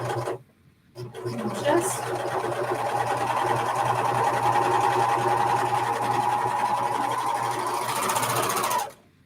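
A Pfaff serger stitches a 4-thread overlock in one continuous, fast, even mechanical whir that runs for about seven seconds after a brief start-up, then cuts off abruptly.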